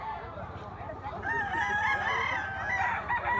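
A banugon gamecock offered for sale crows once, a long, clear, wavering call at moderate distance over a steady background rumble.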